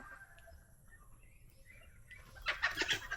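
Bursts of high, bright chirping from a newly hatched baby chick in a nest on a farm, starting mid-clip and growing louder, with soft background noise before.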